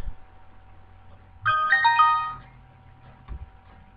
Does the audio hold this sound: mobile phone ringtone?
yes